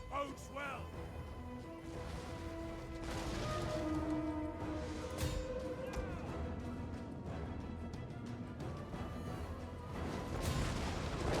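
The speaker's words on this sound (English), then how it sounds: "The walls might also come down in the process of being bombarded." Siege artillery pounds city walls in a Total War: Attila battle, with dense overlapping booms, crashes and rumbling impacts forming a continuous loud wash under a busy game soundscape.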